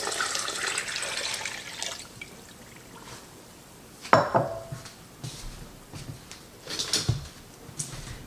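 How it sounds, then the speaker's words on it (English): Two cups of orange juice pour into a pot for about two seconds while making blueberry pear barbecue sauce, followed by quieter sloshing and a few sharp clanks of kitchenware against metal. "I'm going to add 2 cups of orange juice"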